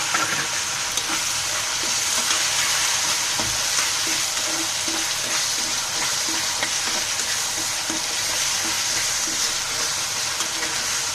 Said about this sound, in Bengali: বড় সাইজের আলুটাকে একটু ভাজি করে নেব দু তিন মিনিট আমি তেলের মধ্যে